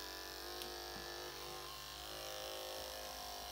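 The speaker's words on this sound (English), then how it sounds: "make sure that clipper is turned on when we snap it shut" Electric hair clipper fitted with a number 2 blade running steadily at close range, a continuous faint buzzing hum with no talking.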